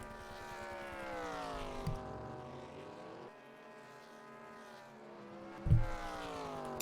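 Race cars leaving the pits at Indianapolis in a racing game, engines droning steadily with rising and falling pitch as they accelerate away, moderately loud with a couple of sharp spikes, no talking.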